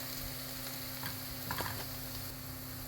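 Onions sautéing in a pan, a quiet steady sizzle with a faint hum and a couple of soft stirring scrapes, no voices.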